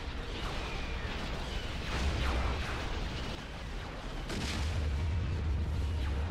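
Missiles striking a Java ship during a space battle in the Empire at War Remake game, a steady wash of distant booms and rumbling impacts, with a few sharper hits rising out of the continuous battle noise.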